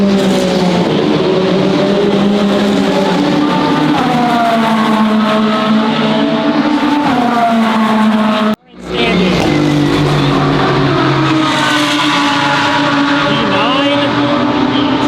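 Race cars in an endurance race with Team Porsche roar past loud and continuous, engines droning and shifting pitch, broken by a brief cut before the sustained din resumes.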